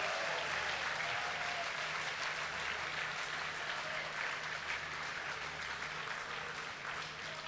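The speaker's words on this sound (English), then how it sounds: "giving the Serangoon GRLs and volunteers and the grassroots advisor a big round of applause" Sustained applause from a crowd at a National Day dinner in Serangoon, Singapore, even and continuous, heard from a distance without pauses.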